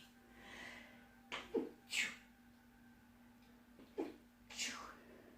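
Two quiet sneezes a few seconds apart, each a sharp burst with a breathy intake, amid soft background hiss.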